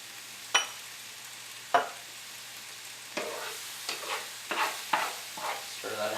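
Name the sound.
stirring flour into sautéed vegetables in a pan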